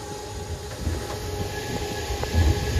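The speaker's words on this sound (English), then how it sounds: "Here's the original tram." Sightseer tram car rolling past along a street in Wildwood Crest, a steady moderate rumble with faint rail-like clatter and a brief rise in loudness near the end, no talking.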